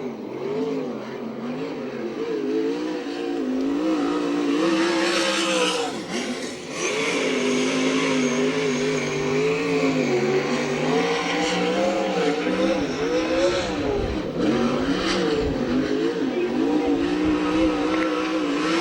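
USAC/CRA sprint cars roar around the track at Santa Maria, a loud sustained engine howl with pitch rising and falling as cars pass, a brief dip near the middle, and no voices.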